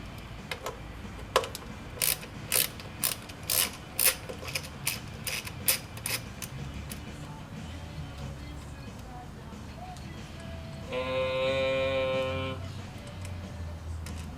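Bolts come out of a 2006-2012 Mitsubishi Eclipse GT engine during spark plug replacement, giving a string of sharp ratcheting clicks over several seconds, then a brief buzzing whir near the end, all close by.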